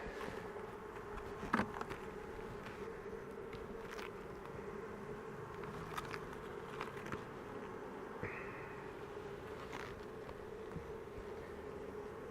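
Honeybees hum steadily around an opened hive during a queenless combine inspection, a continuous close buzz with a few brief louder passes as individual bees fly near.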